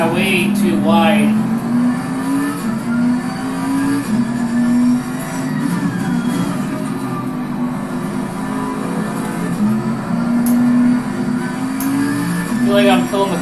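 A race car engine in Assetto Corsa Competizione on PS5 at Zandvoort, droning and rising and falling through repeated downshifts and revs, loud and steady, with a person talking over it.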